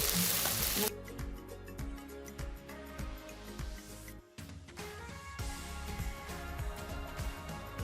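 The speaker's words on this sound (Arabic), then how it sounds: "هديهم تشويحه كده مع الباذنجان والبروكلي" Green bell peppers sizzle steadily in a hot pan alongside eggplant and broccoli, a close, continuous frying hiss with scattered pops and stirring clatter, no talking.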